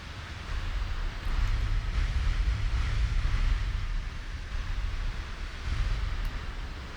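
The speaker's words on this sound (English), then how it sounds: "All those splashes everywhere." Shell splashes and wash of water in a naval battle game with dreadnought-era Japanese warships, a continuous surging roar with broad noisy bursts rising and falling.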